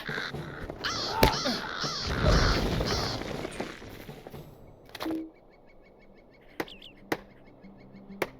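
Crows cawing in a fantasy video game, a few harsh caws with chopping hits early on, then sparse sharp strikes and faint calls over a quiet background.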